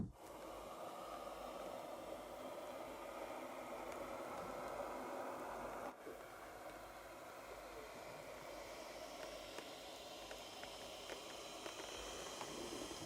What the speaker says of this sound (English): You can hear the kind of leather crackling and the breath of the instrument as it just kind of breathes naturally.